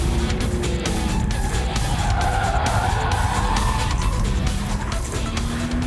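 Tires of an Audi Quattro skid and squeal loudly through a chicane in lift-off oversteer, a continuous scrubbing roar with engine noise underneath, close and sustained throughout.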